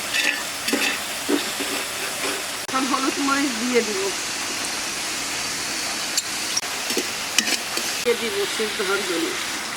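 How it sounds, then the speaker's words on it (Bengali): Steady rain falling during outdoor village cooking in Bangladesh, a constant broadband hiss mixed with stirring and sizzling from the pot, with voices talking now and then. "এখনো বৃষ্টি পড়তেছে"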